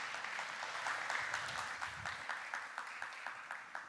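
Church congregation clapping to welcome the pastor to the pulpit at a Sunday worship service, a fairly faint, steady round of applause that thins out toward the end.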